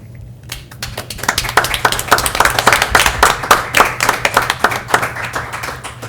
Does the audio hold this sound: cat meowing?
no